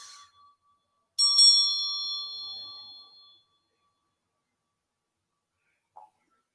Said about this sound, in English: Let us begin by the sound of the bell